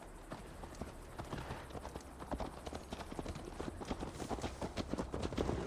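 Galloping hooves of a ridden horse in the video game Assassin's Creed Valhalla beat in a quick, steady rhythm at close range, growing slightly louder throughout over a low ambient hum.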